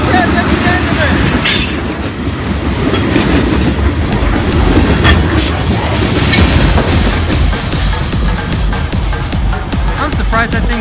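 A long Norfolk Southern or CSX freight train rolls past close by, loud continuous rumble with rhythmic clickety-clack of wheels over rail joints and occasional squeal, while people talk over it.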